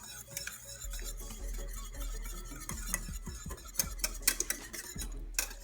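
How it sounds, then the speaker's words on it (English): A spoon stirs lemon-butter dill sauce in a pan, giving a run of light clinks and scrapes against the metal that grow busier toward the end, with no talking over them. "Give it a little stir, incorporating it throughout the entire sauce"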